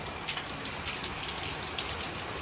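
Heavy rain pours steadily outdoors in the hills at Patnitop, a dense, continuous hiss of drops striking surfaces, fairly loud and close with no pauses.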